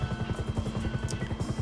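A police helicopter in the video game Grand Theft Auto V thumps with steady, rapid rotor beats, moderately loud and continuous, alone with no talk.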